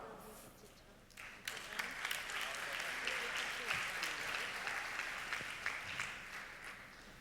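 Audience applause rises and holds at a Unilever start-up pitch competition finale at Innovfest Unbound 2017, a sustained crowd clapping that swells after a second and continues evenly, with a presenter's voice faintly underneath.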